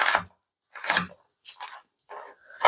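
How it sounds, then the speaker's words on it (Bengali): An onion being sliced lengthwise into strips for a pabda fish curry, heard as four short, crisp cutting crunches with brief pauses between them, fairly close. "পেঁয়াজটা কুচিয়ে নিচ্ছি লম্বা লম্বা করে"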